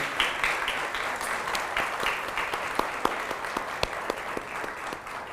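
An audience at a housing forum café applauds panelists with steady, moderate clapping, individual sharp claps standing out from the dense patter, tapering slightly near the end.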